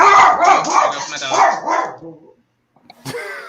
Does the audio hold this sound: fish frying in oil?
no